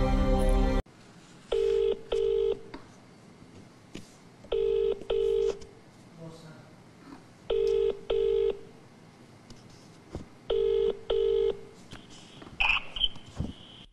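Telephone dialing tones come in four paired bursts of beeps, evenly spaced, over faint background hiss, followed by brief rustling.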